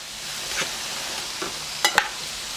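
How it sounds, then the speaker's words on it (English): Courgette ribbons being lightly tossed with a herb salsa in a pan just taken off the heat, a soft fading sizzle broken by a few sharp utensil clinks near the end, no talking. "go in with your salsa, and very lightly mix it all around"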